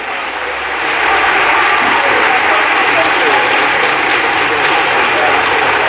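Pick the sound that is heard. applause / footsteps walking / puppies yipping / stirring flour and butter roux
applause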